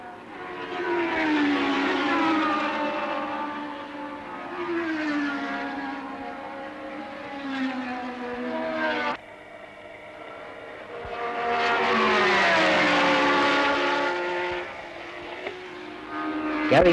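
Racing cars scream down the straight at a 1960s circuit, engines rising in pitch as they accelerate, one car passing loudly then another close behind, with a brief lull between them.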